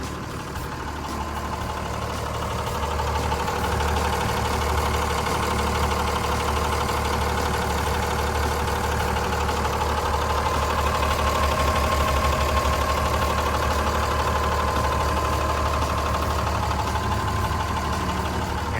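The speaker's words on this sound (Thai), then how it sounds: "ตัวนี้ก็จะเป็นเครื่องยนต์พวกสูบเทอร์โบเลยนะครับ" A Komatsu WA200-3 wheel loader's turbo diesel engine runs continuously at a steady idle, loud and close, with a faint whine layered over the rumble and no talking.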